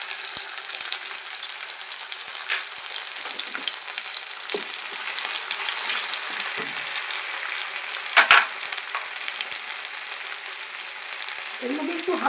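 Sliced onion and ginger garlic paste fry in a pan for palak paneer, giving a steady, bright, close sizzle with occasional soft stirring clicks and scrapes all the way through.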